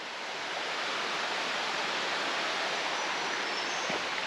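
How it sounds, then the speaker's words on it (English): Steady, broadband rush of water tumbling over rocks in a creek, continuous and fairly close, with no voices. "This water's really cascading down."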